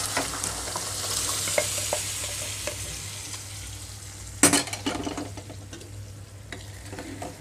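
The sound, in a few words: cooked dal added to green chilli tempering in pan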